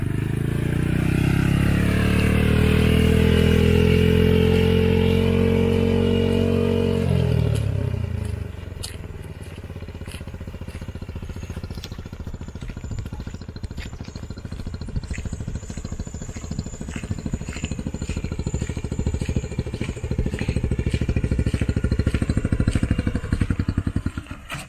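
Small mini buggy engine revving loudly and steadily close by, with a strong low drone that drops in pitch partway through and then settles into a rougher, rattling idle-like run with clattering.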